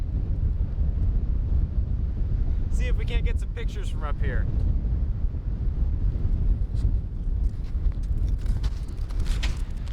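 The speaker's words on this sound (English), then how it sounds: "windier up here. I think that's the storm blowing in, probably." Wind gusts roar steadily across a snowy lookout at Echo Lake Snow Park as a storm blows in, a constant close buffeting with someone talking over it partway through.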